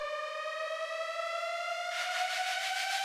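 Sustained synth riser in a melodic techno build-up, a bright harmonic tone slowly climbing in pitch, joined by a noisy shimmering layer about two-thirds through, steady and loud with no voices.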